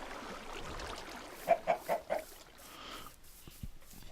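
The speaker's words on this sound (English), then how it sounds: "Oh, hello, chickens." Chickens cluck in the Minecraft video game, four quick clucks in a short burst, then a fainter cluck, over quiet background ambience.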